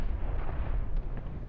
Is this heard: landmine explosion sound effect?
yes